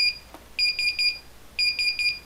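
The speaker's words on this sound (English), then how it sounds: "when that tank reaches a preset limit, an alarm will be generated at the master display" Electronic tank level alarm on a TM-4000 master display, sounding as a holding tank reaches its preset limit: two bursts of rapid, shrill, evenly pulsed beeping, close and clear over a quiet background.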